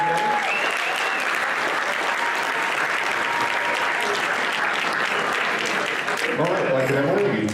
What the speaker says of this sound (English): So let's give this beautiful couple another big round of applause